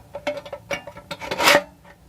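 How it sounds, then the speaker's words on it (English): Metal flaps of a tin can on a muffler are bent over, giving a string of close scraping and creaking rubs that build to one louder grinding scrape. "Bend these flaps over and get 1 or 2 holes started."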